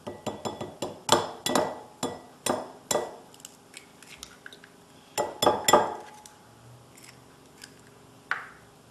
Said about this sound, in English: you should crack the eggs